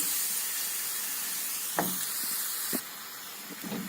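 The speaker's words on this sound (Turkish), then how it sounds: "Kızgın ve sert bir ateşte etimi kavuruyorum." Meat sautés in a pan over a fierce, hot flame for a Turkish sautéed meat dish, giving a loud, steady sizzle and hiss close by, with a few sharp scrapes and clatters as it is stirred.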